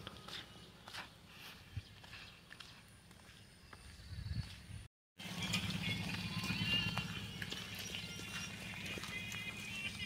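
Hooves clop steadily on the ground as village buffaloes walk past close by, returning from grazing, with a brief gap partway through.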